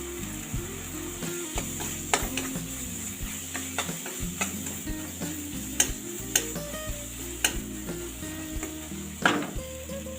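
A spoonful of vegetable masala spice fries in a pan for a raw papaya curry, sizzling steadily while a spoon scrapes and taps through it in an uneven, close rhythm, with no voices.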